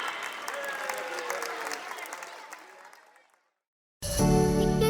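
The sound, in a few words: audience applause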